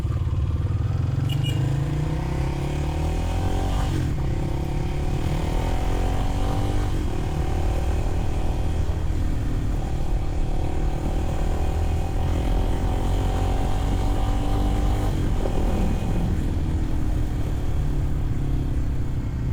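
Motorcycle engine heard while riding, a continuous close drone with gear and revving changes and wind rumble, steady and loud for the whole stretch.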